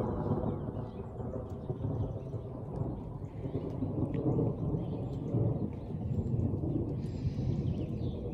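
Low, continuous rumbling thunder rolls through a storm for several seconds, with faint rain and birds behind it.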